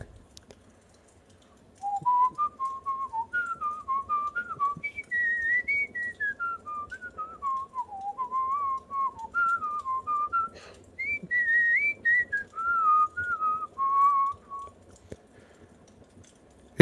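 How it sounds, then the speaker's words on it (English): A lone, wavering whistled melody drifts up and down in pitch over a faint hiss outside a house at 3 a.m., with a short pause midway before it resumes and fades. "At exactly 3:03, we heard the whistling."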